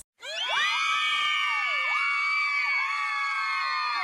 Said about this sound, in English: Cue the screaming fangirls.